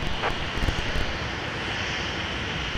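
A Prime Air cargo plane arrives at MSP airport in winter, its engines giving off a steady, broad roar at moderate distance throughout, without speech.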